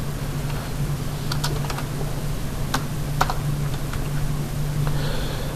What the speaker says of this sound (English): So I can just type in their length,